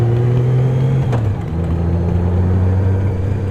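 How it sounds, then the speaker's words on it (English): A second motorcycle rolls by in a small downtown street, its loud engine drone dropping in pitch midway as it passes close, then continuing steadily with no voices. "Another motorcycle."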